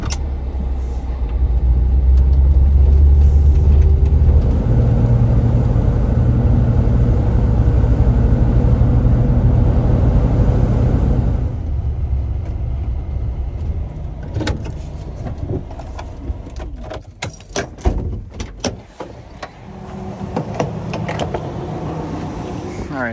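A car drives along a road on a long trip in the Alaskan mountains, with a steady, loud low rumble and road noise inside the cabin that later thins out among scattered clicks and bumps.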